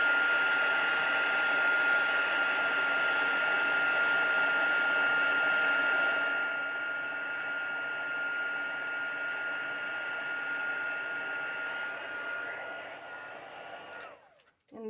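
A hair dryer blows steadily on a painted junk journal page, a loud continuous whine and rush that drops slightly in level midway and cuts off abruptly near the end.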